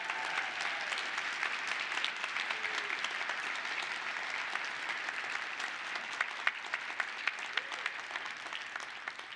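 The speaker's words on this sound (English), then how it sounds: "Will the 2024 CLOC Scholarship winners please rise? Receive our applause." Sustained audience applause at a legal operations annual meeting conference, a dense steady wash of many hands clapping for about nine seconds, with a few sharper individual claps standing out near the end.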